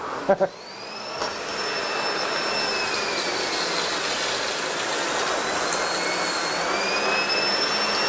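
A SEBO Airbelt E2 Turbo vacuum cleaner runs on a hard floor at increased suction. After a couple of sharp clicks, it settles into a loud, steady rushing roar with a high whine that drifts slightly in pitch.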